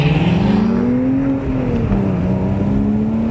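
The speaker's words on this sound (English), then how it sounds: "That's what you expect a Porsche to sound like." Engine of a 2011 Porsche Boxster Spyder accelerating, a loud, steady drone whose pitch climbs smoothly, dips briefly, then rises again, with no talking over it.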